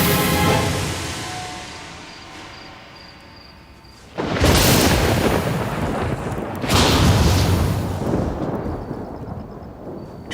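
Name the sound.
thunder of red lightning on the mountain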